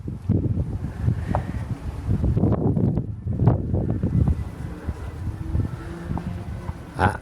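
Wind gusts across an outdoor summer tomato garden, buffeting the microphone with a low, uneven rumble that swells and eases throughout, with a faint rustle above it and no voices.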